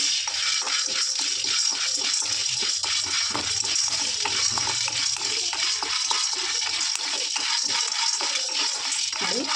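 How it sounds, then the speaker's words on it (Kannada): About half a cup of peanuts frying in a pan over a medium flame makes a constant close hiss and rattle, with scraping stirring noises running through. "ಒಂದು ಅರ್ಧ ಕಪ್ ಆಗುವಷ್ಟು ಕಡಲೆ ಬೀಜನ ಫ್ರೈ ಮಾಡ್ಕೊಂಡು ಬಿಡೋಣ"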